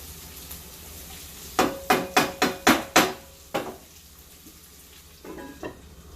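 Cabbage and onion cooking down in a pan: a quick run of six loud metallic clanks from a utensil stirring against the pan, then scattered softer knocks over a low, steady sizzle.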